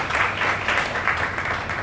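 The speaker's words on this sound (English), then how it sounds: "I'd like you all to give one big round of applause for Dato Haji Baharudin." A brief burst of audience applause for the guest of honor at an album launch, a full, continuous clatter of clapping with a slight rhythmic pulse, heard alone and fairly close.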